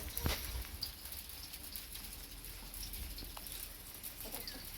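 Steady rain mixed with wet snow falls outdoors in cold weather while chickens shelter from it, with a brief clucking bird call early on and soft drips and patter throughout.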